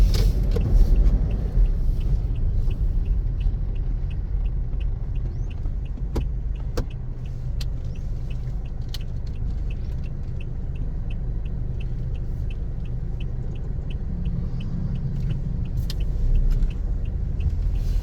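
Steady low road rumble from the underside of a Toyota Innova on the move, a continuous loud drone with a few faint clicks and ticks above it and no voices.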